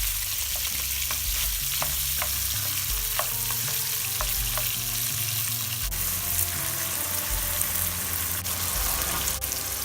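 Minced beef browns in a pan for a bolognese sauce, a loud continuous sizzle with repeated scraping and stirring clicks from a utensil, close and without talk.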